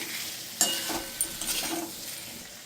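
Spiced achari potatoes coated in Kashmiri chilli powder are stirred in a frying pan, with a quiet sizzle beneath a few soft scraping strokes of the spoon close by.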